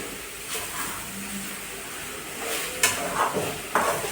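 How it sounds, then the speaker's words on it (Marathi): Grated beetroot being roasted and stirred in a pan for laddu, with a steady low sizzle and a few louder spatula scrapes toward the end, close by. "असं छान असं भाजून घ्यायचे"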